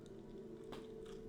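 Quiet biting and crunchy chewing sounds close by over a steady low hum, with a couple of soft crunches.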